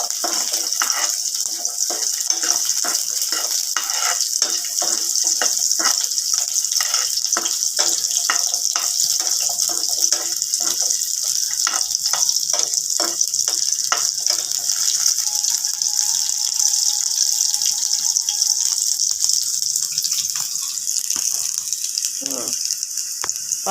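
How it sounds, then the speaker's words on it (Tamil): Garlic and dried red chilies sizzling in a frying pan with salt, a loud, continuous hiss with crackling pops, steady throughout. "உப்பு அந்த வரமிளகாயும் சேர்த்துட்டு நல்லா வறுத்து எடுத்துக்கலாம்"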